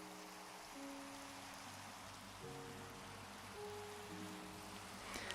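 Steady rain falls in Minecraft, a soft continuous patter with low ambient game tones underneath, no talking.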